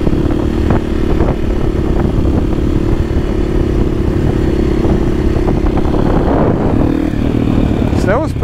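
A motorcycle runs steadily at a spot used for practicing wheelies, its engine droning close and loud throughout with rattling clatter and a brief rise in revs near the end.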